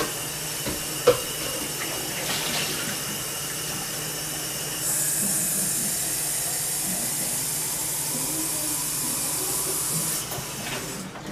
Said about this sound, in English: adding a little bit more water into this pot